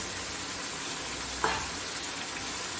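Tomatoes sizzle and fry steadily in a pan over ginger and garlic for beef balti gosht, with a brief stir or clatter partway through and no talk.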